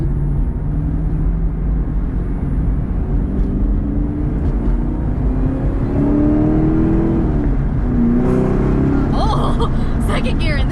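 A Ford Mustang GT350 sports car pulls hard through second gear, its engine note climbing steadily in a loud, continuous in-cabin roar, with a driver's excited voice over it.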